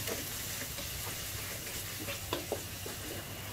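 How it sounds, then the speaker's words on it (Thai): Garlic stir-fries with Thai roasted chili paste in oil over medium heat, a soft, continuous sizzle dotted with light scraping taps from stirring. "ผัดกระเทียมกับน้ำพริกเผานะคะให้หอมเลยค่ะใช้ไฟกลางๆนะคะในการผัดค่ะ"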